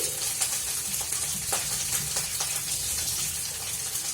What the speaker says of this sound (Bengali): হাত ধুয়ে নিলাম